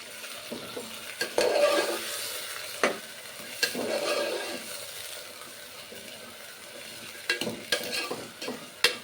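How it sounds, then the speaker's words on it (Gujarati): Potatoes and cluster beans fry in a pan, giving a steady sizzle broken by repeated scraping strokes of a spoon stirring the vegetables, close and clear with no talking. "ત્યારબાદ બટેકા એડ કરી દઈશું અને ગુવાર એડ કરી દેશું"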